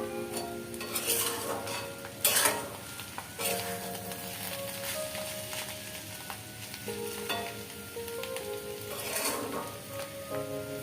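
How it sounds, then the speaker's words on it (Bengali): Young ash gourd (jali kumra) fries in a pan, giving a steady soft sizzle broken by scraping stirs and occasional sharp clinks of the utensil against the pan, all close and unaccompanied by talk. "আর কিছুক্ষণ ভাজলে আমার জালি কুমড়াটা ভাজা হয়ে যাবে"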